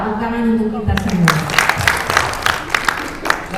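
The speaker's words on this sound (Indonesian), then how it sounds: "Tepuk tangan untuk kita semua." A voice speaks briefly, then a group at a community training forum in Padang bursts into applause, irregular clapping close by with some sharp individual claps standing out.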